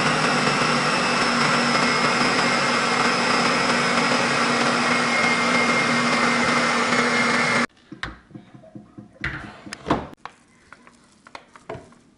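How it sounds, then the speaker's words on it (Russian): A blender whirs loudly and steadily for several seconds mincing meat, then stops, followed by scattered clinks and knocks. "примерно минуту 35 я перекручивала блендером вместе с фаршем"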